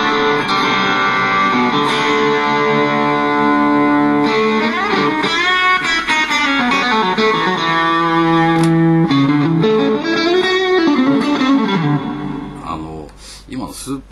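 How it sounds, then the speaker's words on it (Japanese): Distorted electric guitar through a Fender G-DEC Junior on a Super-Sonic amp setting, dense driven chords and bending lead lines played up close and loud, trailing off near the end. "スーパーソニックっていうアンプかな"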